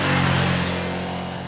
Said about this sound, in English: The engine likes to rev